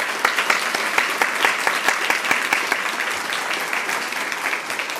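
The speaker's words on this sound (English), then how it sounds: "Would you please give them each a round of applause?" An audience at a women's philanthropy event applauds, close, crisp individual claps forming a lively steady patter that tapers slightly toward the end.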